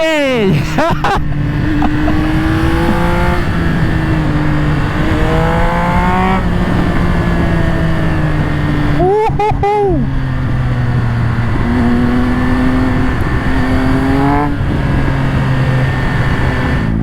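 A Triumph Speed Triple 1200 RS motorcycle engine revs hard and climbs in pitch through repeated quickshifter gear shifts, dropping and rising again, heard up close with constant roar and wind.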